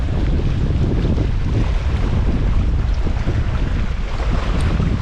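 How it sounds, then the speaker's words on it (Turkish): Strong onshore wind buffets the microphone in a constant low roar on a sea coast, with faint waves in the background. "Şu anda rüzgar karşıdan geliyor"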